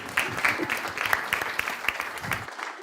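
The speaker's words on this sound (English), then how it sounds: "We applaud you now." An audience in a spiritual center claps in a short burst of applause, moderately close, a patter of uneven hand claps that fades out near the end, with faint voices mixed in.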